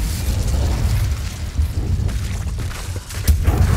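A fiery Incendio spell bursts in the Hogwarts Legacy video game: booming, rumbling blasts roll over a dense low-end roar, with a sharper pop cracking out near the end.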